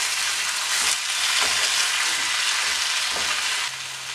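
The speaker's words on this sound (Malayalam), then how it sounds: "ഇനി നമുക്കൊന്നൊന്ന് ഇളക്കി കൊടുക്കാം." Kerala-style chicken roast fries in a pan with a steady, loud sizzle that holds throughout, and a few faint scrapes from stirring sit underneath.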